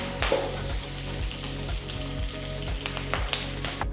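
Oil sizzles and crackles steadily in a pan with red chillies, curry leaves and asafoetida, a constant spitting hiss with occasional sharper pops, heard alone at close range.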